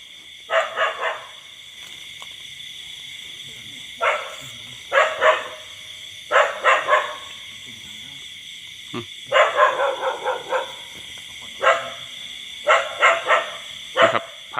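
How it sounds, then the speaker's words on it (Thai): A dog barks repeatedly at a temple in rural Thailand, loud, close bursts of two or three barks separated by pauses, over a constant high insect drone and without speech. "โอ้โห หมา เห่าดีเออ"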